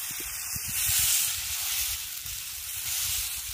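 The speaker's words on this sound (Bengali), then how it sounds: "তারপর এক হাতা ব্যাটার আমি তাওয়ার উপর দিয়ে দেবো।" Chakli pitha batter sizzles on a hot tawa griddle, a steady, close, bright frying hiss with faint crackles throughout.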